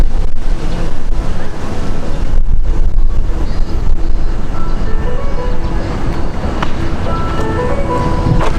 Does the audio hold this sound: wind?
yes